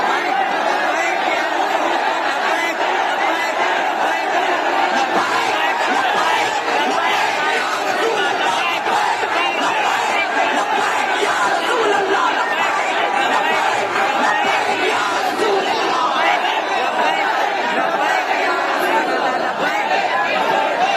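A large crowd at a religious gathering raises a loud, sustained roar of voices that holds steady and dense from start to finish, with no clear pauses.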